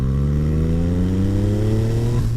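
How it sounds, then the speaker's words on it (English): A Yamaha MT-09 motorcycle with a full Akrapovic exhaust accelerates hard in fourth gear, its loud, close engine note climbing steadily in pitch over about two seconds without talk. "I'm in fourth, I'm gonna give it some gas."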